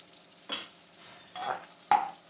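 Green chillies fry in oil inside a lidded pan, heard as a soft background sizzle broken by three short bursts of spattering and clattering within a couple of seconds.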